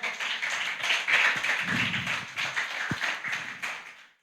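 A congregation at a worship service claps for the Lord, a dense stretch of overlapping handclaps that runs steadily for about four seconds at moderate loudness, with a few low thumps mixed in.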